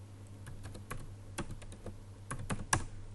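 Quiet keystrokes tap out Python code on a computer keyboard, irregular clicks in short bursts with a few sharper presses near the end, close and alone with no speech.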